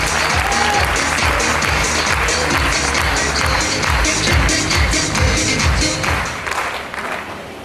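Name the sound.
loud audience applause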